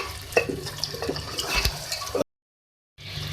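Beef masala cooks in a pan as the meat's released water dries off, with soft wet bubbling and light stirring and pan clatter, then a brief dead silence before the cooking noise returns.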